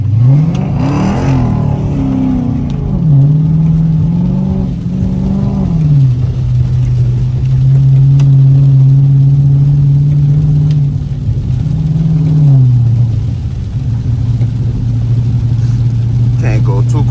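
Car engine revving hard during donuts in the rain, loud and close, pitch climbing and falling in long sweeps over a steady rumble, with a voice speaking intermittently over it.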